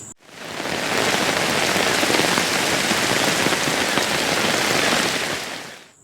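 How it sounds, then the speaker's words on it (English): Steady, dense Minecraft rainfall sound effect pattering on surfaces, a continuous hiss of countless drops that holds evenly for several seconds before cutting off. "This mod adds a special sound effect for when the rain drops on any surfaces"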